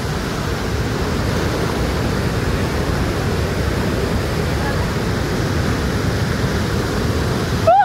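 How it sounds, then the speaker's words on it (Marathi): Water pours down the stepped tiers of Solanpada Dam in a loud, continuous, close-up rushing roar that stays even from start to finish. "वरतून फुल टप्प्यातून पाणी पडत पडत आता तिथपर्यंत तेवढं पाणी आहे"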